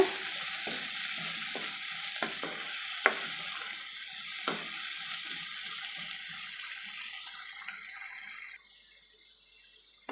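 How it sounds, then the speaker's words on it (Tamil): Potato pieces fry in hot oil and are stirred until crisp: a steady bright sizzle punctuated by sharp clicks and scrapes of a spoon against the pan, close by, cutting off abruptly near the end. "நல்ல இந்த உருளைக்கிழங்கு வந்து எண்ணெயிலே நல்லா கிறிஸ்பியாக வர அளவுக்கு நம்ம பெரட்டி விட்டு எடுத்துக்கணும்"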